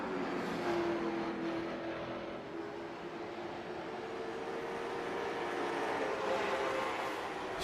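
Late model stock cars race at USA Speedway, their engines blending into a continuous distant roar with faint rising whines as cars pass, steady throughout with no voices.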